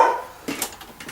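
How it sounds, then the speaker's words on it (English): Roxy, a house dog, barks outside a home at someone passing on the road, giving a couple of short, faint yips at a distance. Soft background noise sits between the barks. "Roxy's barking at something."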